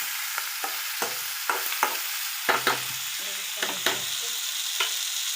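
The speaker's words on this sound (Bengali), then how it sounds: "এটাকে আমি ভালো মতো নাড়িয়ে লবণ পেঁয়াজটা তার সাথে মিক্স করে" Onion and salt fry in a pan, a continuous bright sizzle punctuated by about a dozen irregular scraping knocks of the spatula stirring, close and fairly loud with no talking.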